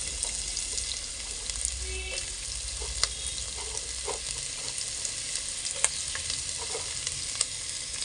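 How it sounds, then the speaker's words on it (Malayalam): Ginger frying in a pan for a Kerala-style dish, a continuous close sizzle with scattered sharp pops and light stirring clicks throughout. "ഇഞ്ചിയൊന്ന് മൂത്ത് വരട്ടെ കേട്ടോ"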